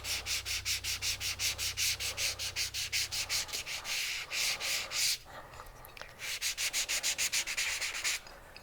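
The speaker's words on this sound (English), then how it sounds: "I'm going to sand it a little bit," Sanding an EZ960 textured fold-over silver ring, a steady run of quick rhythmic rubbing strokes, close and fairly loud, pausing briefly midway before the scraping resumes.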